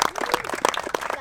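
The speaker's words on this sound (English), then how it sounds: "big round of applause for Ben" Spectators at a UK trials bike nationals prize-giving applaud, a dense burst of clapping nearby with some cheering voices mixed in.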